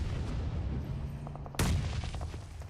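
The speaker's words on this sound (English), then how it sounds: "Nades over to Fireflux from Footballers Chaos." A grenade blast in the battle royale game PUBG Mobile bursts out sharply partway through, loud and broadband after a stretch of low rumbling game ambience and scattered distant gunfire.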